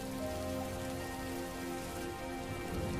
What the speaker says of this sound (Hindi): बस यह बारिश जल्द ही खत्म हो जाए